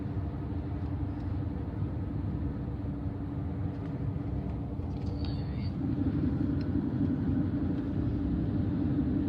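Steady low rumble of a car driving on a road, heard from inside the cabin, continuous and even throughout, with road and engine noise that swells slightly near the end.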